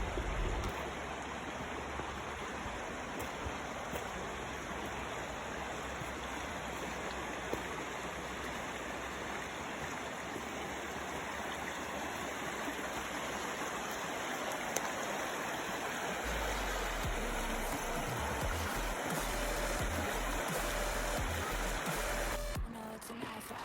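A river in Italy flows steadily in winter, a continuous broadband rush of water heard close and alone, with a low rumble in parts.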